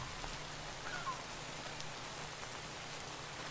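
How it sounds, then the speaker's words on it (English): Rain falling in a Minecraft FTB modpack world, a soft, even hiss of drops spread across the whole stretch, quiet and continuous with no talking over it. "And it's raining too, which is dangerous."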